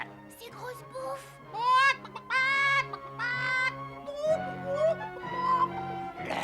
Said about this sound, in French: Oh, le pauvre petit poulet.